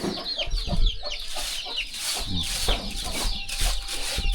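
Chickens cluck and chatter continuously on a rural farm in southern Laos on a morning, several birds overlapping with quick calls close and moderately loud, with no talking.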